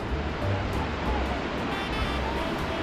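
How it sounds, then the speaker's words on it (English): Rushing river water deep in a canyon beneath the Capilano Suspension Bridge, a continuous broad roar with some wind buffeting the microphone, loud and steady throughout with no speech. "I can hear the rushing river"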